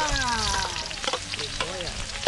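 Garlic and onion frying in oil, a steady close sizzle with stirring clatter throughout a brief stretch, with a faint voice briefly in the background.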